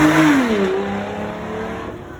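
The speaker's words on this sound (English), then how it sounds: "Huge V12 engine in the front of that DB9, and still a beautiful, beautiful car." A Aston Martin DB9 with a front V12 drives past, its engine note loud at first and then falling away, the tone dropping as it moves off.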